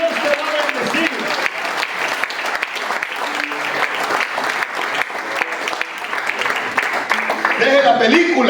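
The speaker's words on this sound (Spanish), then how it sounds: "Dale un aplauso al Señor" A church congregation claps continuously in a dense, sustained round of applause that swells louder near the end. People talk through it.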